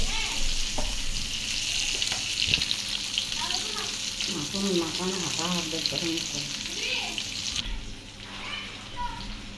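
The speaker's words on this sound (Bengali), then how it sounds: "তেল দিয়ে দিচ্ছে" Hot oil sizzling loudly in a cooking pot after fish frying, a dense steady hiss with crackling bursts and some background voices and clatter nearby.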